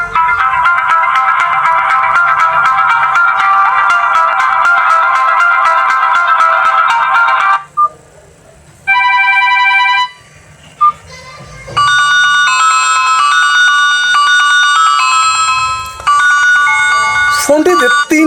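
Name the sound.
mobile phone ringtone playing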